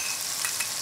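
Hot pepper flakes, three tablespoons, are stirred into sizzling oil with half-cooked meat for spicy seafood noodle soup, a brief bright frying hiss close by.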